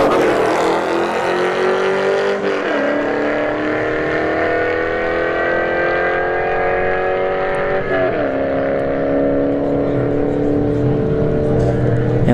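Two cars launch side by side at a drag strip, a C5 Corvette against an EcoBoost S550 Mustang, their loud engines roaring up through the gears as the pitch climbs, breaks at each shift and climbs again. The sound is continuous throughout.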